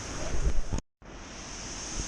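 Steady broadband rush of the Sri Tat Ton waterfall in Sakon Nakhon, Thailand, heard up close as continuous loud water noise with wind buffeting, cut by a brief dropout before the roar resumes.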